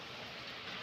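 Monsoon rain falling outdoors makes a brief, even, hissing wash with no distinct drops or voices.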